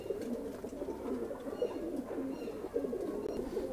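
Several Lalsare pigeons, a male and a female, cooing continuously nearby, overlapping soft throaty calls over a steady background hum.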